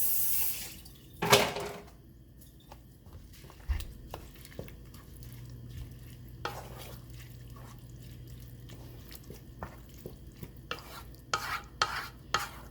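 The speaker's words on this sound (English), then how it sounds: "we're going to give that a stir" Homemade spaghetti sauce with herbs is stirred in a pot, a quiet run of scrapes, clinks and wet bubbling sounds that come in irregular bursts, with a sharper knock early on.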